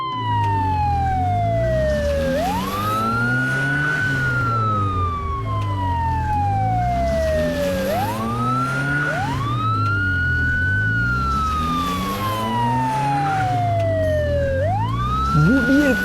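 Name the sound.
police car siren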